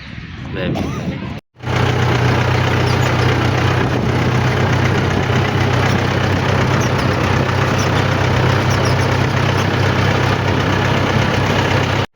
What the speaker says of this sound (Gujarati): ટ્રેક્ટર બેક્ટર તૈયાર કરી નાખ્યું છે